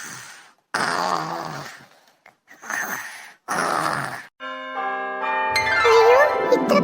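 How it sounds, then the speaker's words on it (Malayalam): An alarm clock rings at five in the morning, a steady electronic tone building into a bright, clanging ring over the last couple of seconds, after several drawn-out moaning, groaning vocal sounds. "അലാറം അടിക്കുന്ന 5 മണിയായി"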